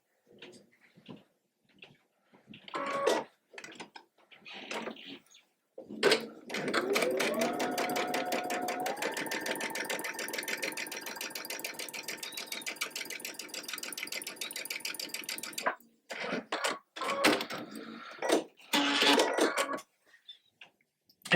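A sewing machine stitches quilt block pieces for a Buttercup sampler block, a close rapid whir that runs steadily for about nine seconds, set between short bursts of handling noise and fabric rustle.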